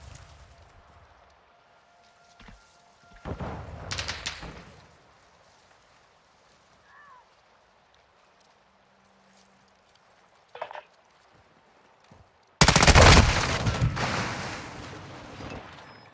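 Gunfire in Call of Duty: Modern Warfare II at the Zarqwa Hydroelectric map: a few scattered bursts of shots with quiet gaps, then a loud close volley near the end that trails off slowly, with no speech.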